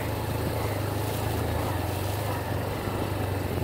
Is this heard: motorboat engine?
yes